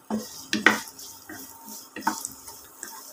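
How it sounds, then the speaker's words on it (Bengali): Chopped onions and green chillies fry in hot oil with a low sizzle, broken by several sharp clinks and scrapes of a spatula stirring against the pan. "তেল গরম হয়ে গেলে দিয়ে দিচ্ছি 2টা পেঁয়াজ কুচি এবং 2টা কাঁচামরিচ কুচি।"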